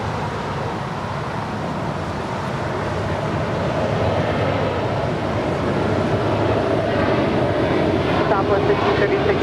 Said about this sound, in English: Our next departure is United Airlines Flight 1946 heading to Houston, Texas. It's a 737-900ER.